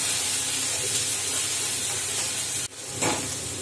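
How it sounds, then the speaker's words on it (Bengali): Onion and garlic paste sizzles in a pan as it is stirred, giving a steady close hiss that breaks off briefly near the end and then resumes with a short burst of stirring. "পেঁয়াজ বাটা রসুন বাটা ভালো করে নেড়ে আসছে।"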